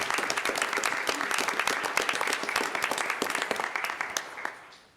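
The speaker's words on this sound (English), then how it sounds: "I think a round of applause by the board would be great." A round of applause at a county commissioners' meeting, brisk and steady from a small group of hands, then tapering away toward the end.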